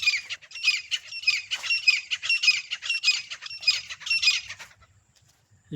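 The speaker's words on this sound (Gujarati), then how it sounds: "કેવું કેવું અમારા ગામડાની અંદર મીઠો અવાજ સાંભળવા મળે છે પક્ષીઓનો" Birds squawk in quick, repeated bursts for several seconds, loud and close, then fall quiet before a short thump at the end.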